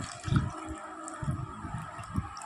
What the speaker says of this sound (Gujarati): અડધો ગ્લાસ જેટલું મેં પાણી નાખી દીધું